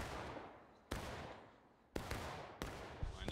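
Musket fire during a Civil War infantry battle in War of Rights, three or four sharp cracks spaced out after one another, each trailing off into a fading rumble, fairly faint overall.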